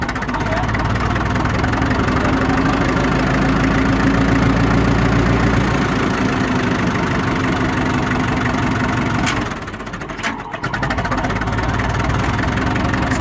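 A 1956 International TD6 crawler dozer with a six-way blade idles its diesel engine on a cold start, a loud, steady rumbling chug with knocking pulses that holds constant, dips briefly near the end, then resumes.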